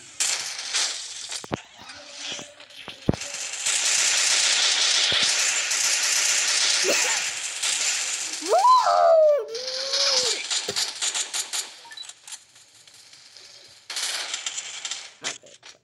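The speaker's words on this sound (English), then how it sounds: "Someone's shooting." Gunfire in the Free Fire video game, with bursts of rapid shots and scattered single pops, dense stretches of loud crackling fire, and a brief whistling or chirping game effect in the middle.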